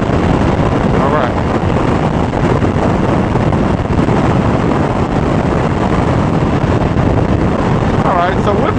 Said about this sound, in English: wind buffet is not bad at all